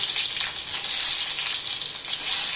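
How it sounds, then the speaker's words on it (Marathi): Garlic cloves fry in two spoons of oil in a wok, giving a continuous bright hissing sizzle heard up close, fairly loud and even for the whole moment, with no speech. "त्यामध्ये लसूण टाकत आहे।"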